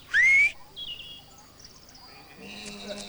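A shepherd gives a single sharp rising whistle to his sheepdog, short and loud, followed by faint chirping and soft background sounds.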